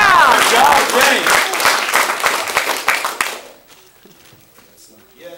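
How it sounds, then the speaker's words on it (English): An audience at a martial arts belt ceremony claps and cheers loudly for several seconds, with voices shouting over the applause before it fades to near silence. "Give him a cheer!"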